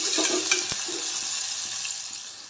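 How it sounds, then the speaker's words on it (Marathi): Finely chopped onion frying in oil, a loud, close, continuous sizzling hiss with a brief stir near the start. "इथे मी एक बारीक चिरलेला कांदा घेतला आहे तो देखील ॲड करणार आहे आणि थोडासा असं मऊसूत कांद्याचा कलर चेंज होईपर्यंत ह्याला ना आपण तळून घ्यायचं तेलामध्ये"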